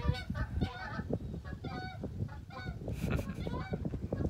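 Honking from a passing flock of Canada geese over a backyard garden, with many close, overlapping calls that stay steady and clamorous from start to finish.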